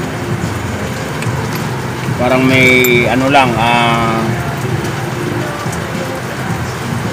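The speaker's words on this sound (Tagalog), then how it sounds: "ulan mga kasuki, lumalakas ang ulan" Steady heavy rain pours on a surface in the Philippines, building in intensity as someone speaks over it in the middle of the clip.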